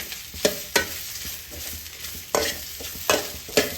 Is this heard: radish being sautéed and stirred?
yes